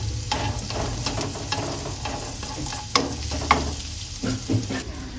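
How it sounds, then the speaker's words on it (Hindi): Garlic sizzling in hot oil in a pan while being stirred for a chicken noodle dish, a steady frying hiss with repeated scraping and clinking stirring strokes close up, no talking. "लहसुन थोड़ा सा हो गया है फ्राई।"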